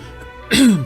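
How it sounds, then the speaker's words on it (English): One short throat clearing, a gruff rasping burst up close, with no other sounds around it. "You have to excuse me for clearing my throat."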